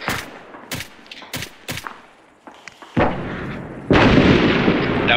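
Gunfire and explosions from an Arma 3 night battle in a valley: a string of sharp, spaced shots, then a loud nearby blast from an RPG hitting a ridge, followed by another sustained, rumbling explosion.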